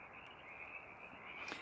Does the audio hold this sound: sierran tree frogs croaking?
yes